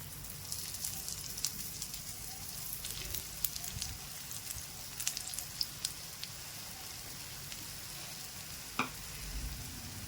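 Lentil appe sizzle and crackle in oil in an appe pan, a steady close frying hiss with scattered sharp pops and spits.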